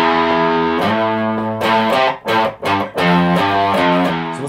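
A riff on an electric guitar with distortion, a loud, sustained single-note line with a few short choppy notes in the middle, played alone.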